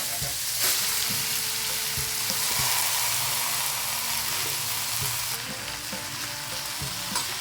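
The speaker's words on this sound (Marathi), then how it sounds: "आता आपण याच्यात हे कैरीचे घेतलेले तुकडे आणि काप घालणार आहोत" Raw mango pieces and slices drop into hot oil with spices such as cloves in a pan, setting off a loud, steady sizzle and fry with stirring scrapes that continue throughout, no voices.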